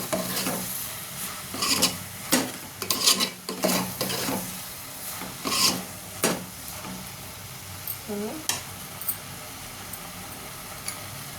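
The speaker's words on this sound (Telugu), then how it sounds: "రెండు నిమిషాలు ఎల్లిపాయ జీలకర్ర వేసిన తర్వాత ఇలా కలుపుకొని" Onion and cumin are stirred in a pan for a prawn and okra curry, giving repeated scraping, rasping strokes in irregular bursts with a low sizzle between them, close and fairly quiet.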